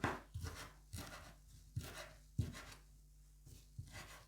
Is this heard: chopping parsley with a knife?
yes